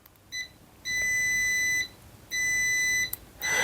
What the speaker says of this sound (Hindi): बीप मोड के अंदर जो ही प्रोब आपस में टच होती है तो एक बीप हमें आता है